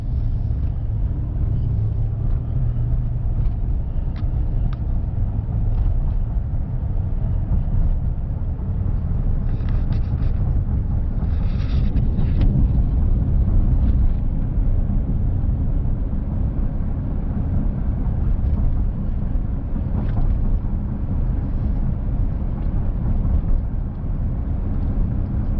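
A GM truck with an 8L90 eight-speed automatic cruises at about 45 mph in eighth gear near 1,000 RPM, giving a steady low engine drone and road rumble that stays even throughout with no talking.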